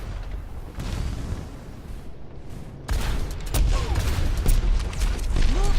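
Pharah's rockets explode in the Overwatch shooter game, with a dense run of booming blasts that swell louder midway, mixed with busy game noise and a brief voice.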